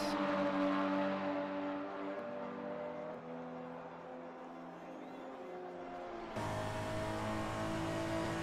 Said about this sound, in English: Jensen will be in the slipstream. And he overtakes Mali on the straight.